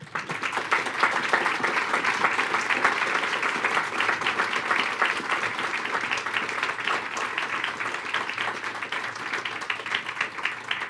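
Sustained, dense applause fills a school board trustees' special meeting hall, a steady wash of many hands clapping at once for around eleven seconds without a break.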